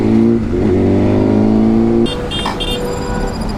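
A sport motorcycle engine, a BMW S1000RR or Yamaha R15 being ridden for wheelies, revs loud and close, holding a high, steady whine for about two seconds before dropping to a rougher, lower running note.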